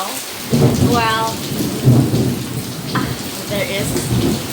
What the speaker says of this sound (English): I'm really sorry my voice is lower than the rain sound because it is raining